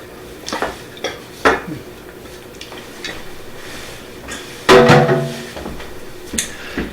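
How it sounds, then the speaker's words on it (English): Food goes into a saucepan in a kitchen, with sharp metallic clanks and knocks of the pan and utensils scattered irregularly, one louder clatter near the end, and no talking. "we're going to go ahead and put that in a saucepan here"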